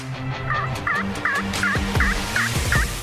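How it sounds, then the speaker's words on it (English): A wild turkey gobbles repeatedly in quick succession, loud and close, with a steady rhythmic series of rattling calls and no talking. "we were going to scout some turkeys for Aaron up there"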